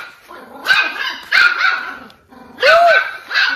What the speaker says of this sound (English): I'm gonna feed these dogs before them start making a lot of noise, because they're hungry